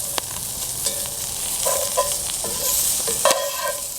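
Brussels sprouts sizzling and being stirred in a pan over a campfire, a steady close frying hiss broken by a few scraping stirs.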